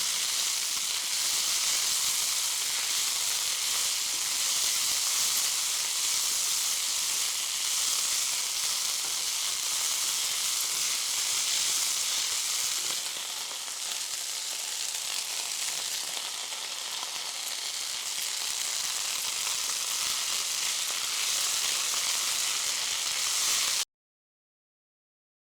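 Chopped coriander leaves sauté in a pan for chutney, with a loud, continuous close-up sizzle that dips briefly midway and then carries on steadily. No voices are heard, and the sound cuts off abruptly near the end.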